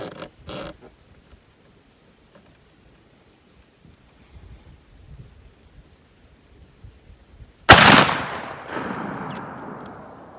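12 gauge hunting slug fired at a shooting range: one sharp, loud blast rings out near the end and decays into an echoing tail, after quiet background rustling and a couple of faint knocks.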